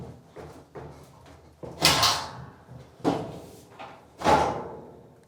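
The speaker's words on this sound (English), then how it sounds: "take this whole front panel and the door and just pull it up" A Whirlpool or Kenmore dryer's front panel and door being pulled off during disassembly, heard as several separate knocks and clunks of metal panel, with the louder impacts coming about a second apart.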